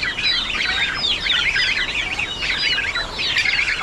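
Young geese in a farmyard after heavy rain give a dense, continuous stream of high peeping calls, close and steady throughout with no talking.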